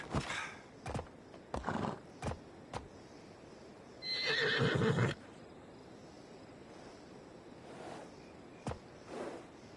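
A horse in the video game Assassin's Creed Odyssey whinnies loudly in one long neigh amid a series of short, sharp hoof clip-clops and thuds spaced through the scene, with no talk.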